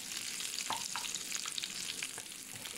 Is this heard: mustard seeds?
yes